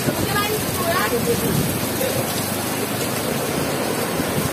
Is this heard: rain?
yes